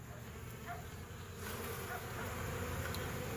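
Small autumn swarm of honey bees buzzing, a steady close insect hum that carries on throughout and swells slightly louder in the second half.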